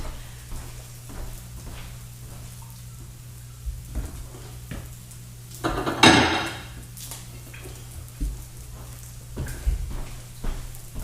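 Last pieces of savoury French toast fry quietly in a pan with a soft steady sizzle, broken by light clinks and clatter of dishes and one louder burst of kitchen noise partway through.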